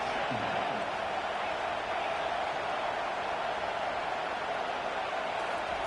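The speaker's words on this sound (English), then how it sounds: "This crowd bringing the energy and noise early." A stadium crowd in an NCAA college football video game, a steady broad roar of cheering noise under continuous play-by-play commentary.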